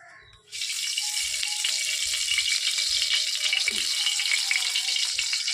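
Bori, small sun-dried lentil dumplings, fry in hot oil in a pan with a sudden onset of loud, continuous sizzling and crackling, plus a few low clunks of the pan or utensil.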